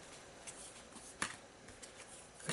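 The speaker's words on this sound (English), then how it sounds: "Shuffle your deck." A deck of cards is shuffled at a tabletop game session, giving soft riffling flutters with a few sharper snaps, quiet and close, with no talking.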